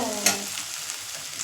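Onions frying in a pan for chicken varuval, with a brief scrape of stirring early on and then a soft, steady sizzle alone at close range.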